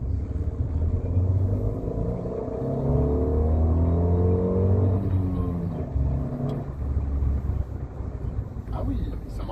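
A Fiat 500 S 0.9 TwinAir 105 hp two-cylinder engine pulls hard under acceleration, a steady low drone with rising harmonics from inside the car, wind and road rumble beneath, a brief gear-change dip midway.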